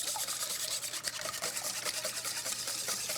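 Muffin batter ingredients are whisked in a bowl. Quick, steady rhythmic scraping and swishing of the whisk runs close up and continuously throughout.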